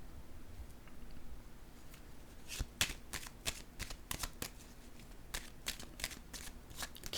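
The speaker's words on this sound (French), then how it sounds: "Je vais déposer une autre carte ici." Tarot cards being laid down and handled on a table, a faint ambience followed by a series of soft, irregular papery flicks and slaps, close and quiet.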